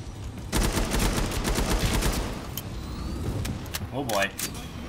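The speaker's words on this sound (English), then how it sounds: "Shotguns galore." Rapid shotgun and gunfire bursts in the shooter game Killing Floor 2, dense loud volleys dominating the first half, with players shouting over the chaotic game sounds.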